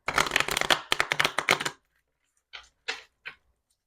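Tarot cards being shuffled by hand: a rapid riffling flutter for about two seconds, then a pause and three short separate flicks as cards are pulled, close and clear with no talking.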